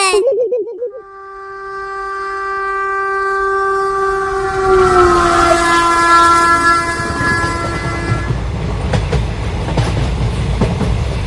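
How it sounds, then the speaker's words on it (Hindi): A cartoon train pulls into a station, opening with a loud sustained horn blast that bends in pitch, then a steady rumbling roll of wheels and carriages that grows heavier as it nears. "वो देखो, आ गई ट्रेन।"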